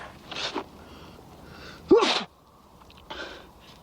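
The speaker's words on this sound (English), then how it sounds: "Makes me sneeze." A sharp, loud sneeze bursts out once in the middle, framed by fainter sniffing or breathy sounds just before and after in an otherwise quiet setting.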